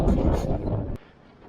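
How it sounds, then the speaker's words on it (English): Loud, blustery wind on coastal cliffs buffets the microphone in a dense roar for about a second, then drops abruptly to a quieter rumble. "It's so windy."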